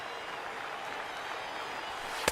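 Baseball crowd in MLB The Show 19 roaring steadily during a late-inning rally, a broad sustained cheer with a brief louder burst near the end.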